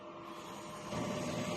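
An ink tank printer runs a print head cleaning cycle with a faint mechanical hum and whir that grows slightly louder partway through the short stretch.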